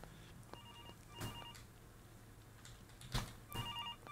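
A telephone rings in the indie horror game At Tony's, set in a pizza kitchen: faint electronic ring bursts repeating at intervals, with soft clunks and background noise between them.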